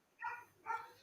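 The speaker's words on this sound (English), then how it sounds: "Someone's dog is barking." A dog gives two quick barks in succession, faint and somewhat distant, with no talking over them.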